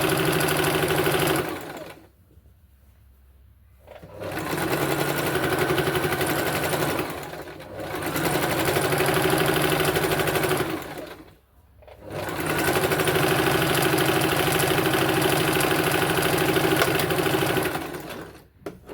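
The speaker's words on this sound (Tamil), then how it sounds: "ஒரு தடவை போட்டாச்சு, இன்னொரு வாட்டிக்கும் தையல் போட்டுக்கோங்க" A sewing machine runs in long steady bursts while stitching the seam of a chudithar pant, its fast rhythmic whirring loud and close, broken by a few short pauses between runs.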